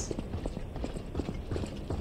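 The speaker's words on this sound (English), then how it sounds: "I love to hear his little footsteps." A character walks in the video game Lies of P, soft rhythmic footsteps tapping at an even pace beneath a low rumbling background, fairly muted and continuous for about two seconds.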